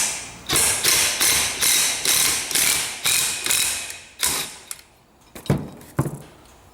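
A ratchet clicks in quick, even pulls as a nut is tightened onto an alternator, about a dozen close, loud strokes that slow into a few separate clicks near the end.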